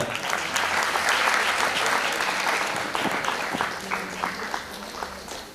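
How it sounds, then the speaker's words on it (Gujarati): Audience applause at a school honoring ceremony for the top three board-exam students, a full sustained burst of clapping that gradually thins toward the end, with no talk over it. "તાળીઓથી વધાવો"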